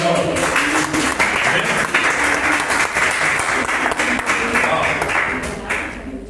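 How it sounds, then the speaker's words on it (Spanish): A congregation applauds at a church service, sustained dense clapping filling the room for several seconds, steady and loud before easing slightly at the end. "Demos un aplauso al Señor"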